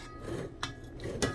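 A utensil scoops and layers chicken nacho fillings inside an Instant Pot inner pot, making quiet scraping with two brief clinks against the metal and soft rubbing in between, with no voices.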